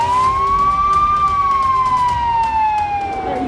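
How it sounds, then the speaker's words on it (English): A police car siren wails close and loud outdoors, one long rising-then-falling tone held over steady background noise. "Is it just me, or do I hear police sirens?"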